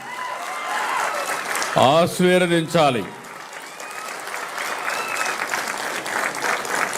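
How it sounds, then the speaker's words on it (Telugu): An audience at a government event for people with disabilities, addressed by the Chief Minister, applauds loudly and steadily throughout. A voice briefly speaks over the clapping. "ఈ ముగ్గురు కూడా గట్టిగా చప్పట్లు కొట్టి మీరందరూ వారిని అభినందించాలి"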